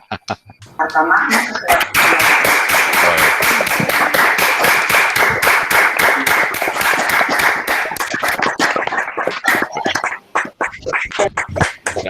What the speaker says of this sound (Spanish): Vamos a darte un aplauso todos.